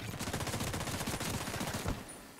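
Rapid turret gunfire in a video game, a dense stream of close, fast bursts rattling for about two seconds before cutting off.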